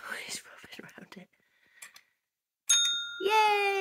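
A cat's small toy bell ringing indoors, a few bright metallic jingles close by, heard after soft whispering and quiet handling noises.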